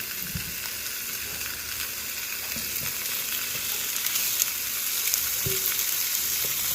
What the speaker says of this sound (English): We want to get our steaks on there, and I'm going to put it down at an angle with the two of them